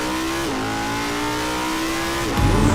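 A 2020 Audi R8 V10 Performance engine revs loudly and close, holding a steady high-pitched tone that dips and climbs between gear changes, ending in a sharp surge of acceleration.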